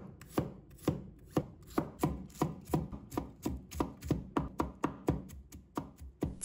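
Garlic being minced with a knife on a board, a steady run of sharp, close chops at an even, brisk rhythm, each blow distinct with a short thud, no voices.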